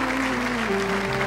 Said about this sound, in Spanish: Otro fuerte aplauso para el Señor.